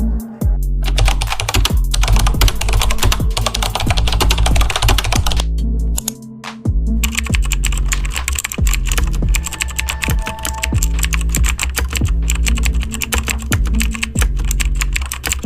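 Someone typing a question on a computer keyboard: a dense, fast stream of close, crisp key clicks with a brief pause midway before the tapping resumes.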